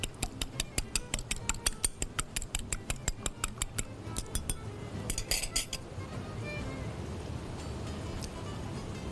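An egg beaten in a bowl for malpua batter, sounding as a quick run of regular clinking taps against the bowl for about four seconds, then a few scattered knocks and a low murmuring background.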